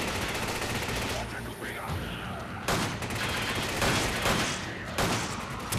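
Dense, continuous gunfire from Resident Evil 5, with rapid overlapping shots and bursts filling the clip at a steady loud level.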